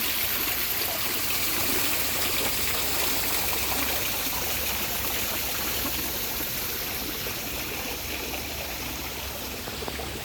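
A waterfall pours in a steady, unbroken rush of broadband noise at close range, holding an even level throughout with no voices.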